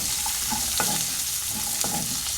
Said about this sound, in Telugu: కొద్దిగా పసుపు, వేసి కలిపేద్దాము